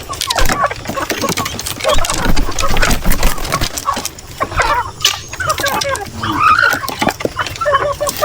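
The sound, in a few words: organic material shredder running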